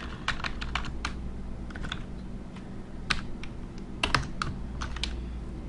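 Quiet, close typing on a computer keyboard, keys tapped in short irregular bursts with brief pauses between them and no talking.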